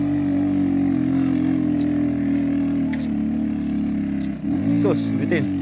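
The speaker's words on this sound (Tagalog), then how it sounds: "Hirap na hirap yung tricycle." A tricycle engine labours uphill on a rough road, a loud steady low drone that dips and then strains higher near the end, with brief voices in the background.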